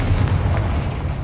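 A Confringo fire spell blast in Hogwarts Legacy, a loud, dense low rumbling explosion that fills the whole short moment without fading, with no talking over it.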